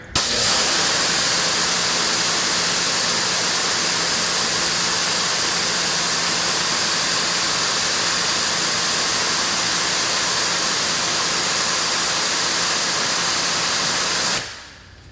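An Adam's Pro Series electric pressure washer, used for car detailing, runs continuously at full output with a loud, steady hissing spray and motor hum, starting abruptly and cutting off near the end.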